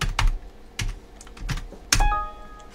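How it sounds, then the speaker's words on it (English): Repeated keystrokes on a computer keyboard, four loud separate key presses about half a second apart, with a brief tonal ring after the last. "Now I'm going to type in 24 Z's"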